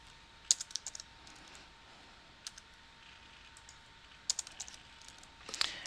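A computer keyboard being typed on to enter a new file name in a save dialog, with a few short bursts of quick, light key clicks separated by quiet pauses, close and fairly soft.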